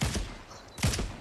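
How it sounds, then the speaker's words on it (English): Video game gunfire in Fortnite, two quick bursts of shots separated by a short lull, close and fairly loud. "Are you shooting from behind me and in front of me?"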